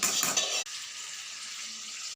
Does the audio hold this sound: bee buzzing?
no